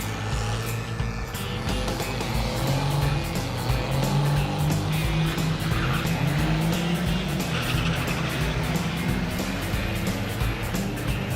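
Diesel-swapped Ford Torino wagon drag racing, its engine roaring loud and sustained with tires squealing and skidding throughout, close and intense, with faint crowd and another car's noise in the background.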